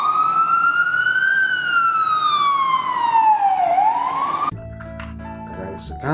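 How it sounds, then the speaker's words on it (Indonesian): A toy ambulance siren wails loudly in a rising and falling electronic tone for about four seconds, then cuts off into quieter clicking and handling noises. "Keren sekali ini ambulannya."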